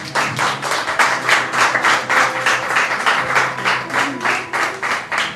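Church congregation clapping in unison during a Spanish-language sermon on baptism, loud, rhythmic and evenly spaced, close and steady throughout.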